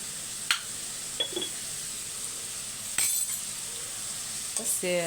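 Semiya with onions and tomato fries in a pan with a soft, steady sizzle, broken by a few sharp clinks of a utensil stirring against the pan.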